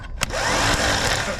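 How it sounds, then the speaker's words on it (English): The bench-jumped starter motor of a 1966 Chevy panel truck that has sat for about 20 years whirs loudly and steadily up close. A sharp click at the start turns into a high electric spin that holds for over a second. "So the motor does spin"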